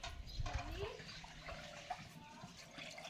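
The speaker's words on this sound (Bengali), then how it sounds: "কাকিমা এখানে চাল ধুচ্ছে" Rice being rinsed by hand in water for khichuri in a village kitchen, soft sloshing and swirling splashes with brief taps, close by, with faint voices in the background.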